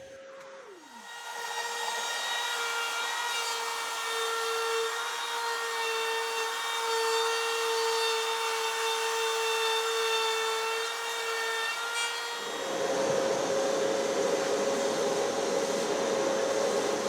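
A router cuts into wood for a homemade sound bar with a loud, sustained high whine and a shift to a rougher, heavier cutting tone partway through, heard alone at close range.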